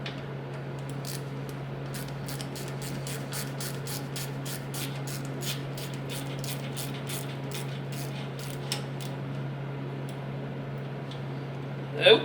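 Ratchet wrench clicking on a Ford F100 8.8 rear axle differential, a rapid run of sharp metallic clicks over a steady hum, close, ending in a louder clank.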